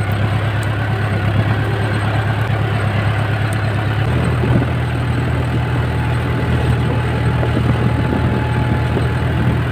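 A tractor engine idles on a farm field, a steady low rumbling drone with a slight shift in pitch partway through, close and continuous with no talk.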